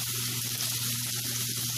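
Portuguese linguiça sausage and bacon frying in a pan for pea soup, a soft steady sizzle with a low hum underneath, brief and without talk.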